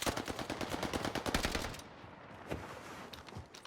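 Automatic STG rifle fire in Call of Duty Warzone, a fast continuous burst of loud shots that stops partway, followed by a few scattered distant shots.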